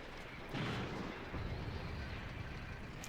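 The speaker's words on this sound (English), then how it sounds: "they're firing with their 20mm autocannons." 20mm autocannon fire in the World War II game Graviteam Tactics, 2nd Battle of Kharkov: a sudden loud burst followed by a few more muffled shots under a continuous dense rumble of battle noise.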